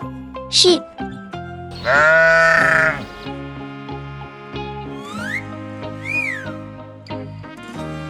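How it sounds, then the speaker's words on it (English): Sheep bleating in a wavering, nasal cry held for about a second, close and loud, over a bright background music track with a few other animal-like squeaks. "Sheep."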